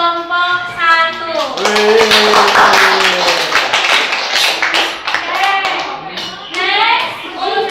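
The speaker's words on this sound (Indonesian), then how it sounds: "Kita kasih aplaus untuk kelompok 1." Classmates clap for a group that has just finished a presentation, a burst of close, dense hand claps swelling in the middle of the clip while voices speak and call out around it.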